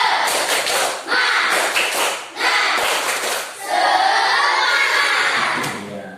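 A school class doing a rhythmic spirit clap, tepuk semangat: bursts of group clapping and taps in a patterned rhythm, children's voices chanting along, followed by a louder cheer.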